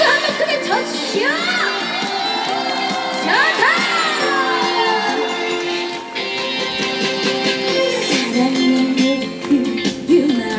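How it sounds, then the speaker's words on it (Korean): An outdoor crowd at a rainy festival opening performance cheers, shouts and whoops continuously and loudly, with applause mixed into a dense wash of voices. "박수 한번 크게 쳐주시오"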